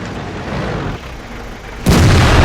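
A tank cannon fires in the World of Tanks video game: one loud, close, booming shot bursts in near the end over a quieter rumbling battle background.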